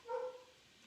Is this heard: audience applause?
no